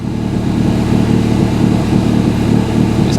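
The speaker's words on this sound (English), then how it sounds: "It's idling well, to be fair." A Ford Fiesta ST180 engine idles with no exhaust fitted. It gives a loud, steady, close rumble with an even low throb that runs the whole time, and a brief higher note comes in right at the end.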